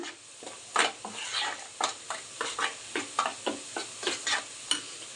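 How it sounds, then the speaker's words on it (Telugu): Chicken curry mixture stirred in a pan: a quiet sizzle under rhythmic scraping strokes of a spoon against the metal, roughly a dozen close, evenly paced scrapes. "ఇదంతా బాగా అన్నీ కలిసేలాగా బాగా మిక్స్ చేసుకోవాలి"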